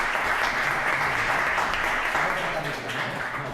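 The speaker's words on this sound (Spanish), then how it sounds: "un pequeño aplauso para él" Audience applause at a mysteries conference welcoming a speaker to the stage, a steady, fairly loud patter of clapping that eases off toward the end, with a little voice mixed in.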